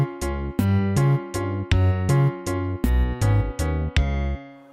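A waltz-like drum beat in 3/4 time programmed in LMMS, with steady kick and snare hits grouped in threes and crisp percussive ticks, loud and close, ending in a short tail with no talking.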